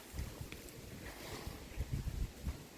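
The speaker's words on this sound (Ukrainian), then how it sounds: "Ви бачите, який вітер, все збиває, рве" Strong wind buffets the microphone in gusty low rumbles, with rustling and flapping noises throughout; nobody speaks.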